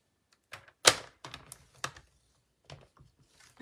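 A paper trimmer presses and scores a fold line into thick card, giving a handful of separate sharp clicks and thunks with short pauses between them, close and quiet, with no talking.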